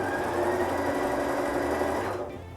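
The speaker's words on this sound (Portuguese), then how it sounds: "Essa costura aqui que eu vou fazer é uma costura em cima do risco." A sewing machine stitching a seam along a marked line on patchwork fabric, a close, steady mechanical whir with rapid needle rhythm that runs continuously, then winds down and stops near the end.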